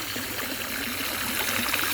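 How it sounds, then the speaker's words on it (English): Leftover water drains out of a retractable garden hose in a steady, hissing trickle, close by and constant, with no voices over it. "I'm trying to get the rest of the water out of the hose."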